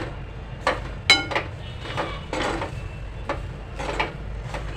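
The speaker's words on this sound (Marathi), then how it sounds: "ओलं खोबरं कढईला चिकटतं म्हणून सगळीकडून मिक्स करा" Fresh grated coconut is stirred in a wok, with a spatula clinking and scraping against the metal in short, irregular strokes at close range, fairly quiet between the hits.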